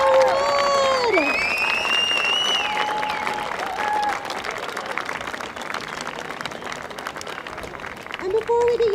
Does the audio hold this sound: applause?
yes